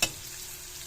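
Garlic frying in a pan, a steady broadband sizzle with a louder burst at the start and again at the end, close and continuous with no voices.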